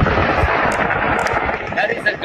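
Rapid, dense bursts of gunfire crackle continuously during a mass shooting in Las Vegas, under a noisy, chaotic background, with a voice briefly audible in the mix.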